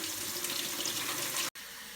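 Running water splashes and pours into a cooking pot as red lentils are rinsed, a steady close hiss that stops abruptly near the end.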